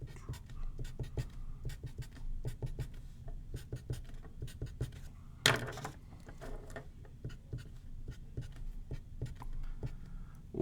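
A pen sketches water molecules for a chemistry lesson on combustion reactions, giving close, steady scratchy strokes and quick taps on the writing surface, with one sharper knock midway and no speech.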